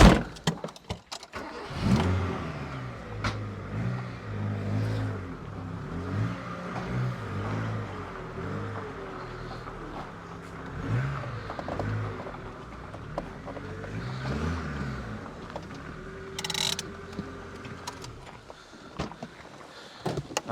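A 1990 Ford Capri cranks and fires up, then idles roughly and pulls away, its engine rumbling with uneven revs and clunks close by, fading slightly as it drives off into the sun.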